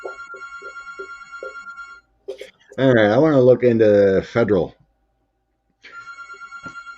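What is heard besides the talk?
home telephone ringing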